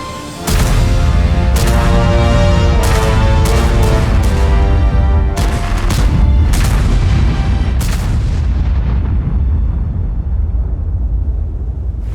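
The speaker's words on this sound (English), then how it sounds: "The sound of shots will become deeper and more authentic." Loud, deep booming tank cannon shots in World of Tanks fire repeatedly in a heavy barrage, each blast crashing over a thick rumbling din that slowly fades at the end.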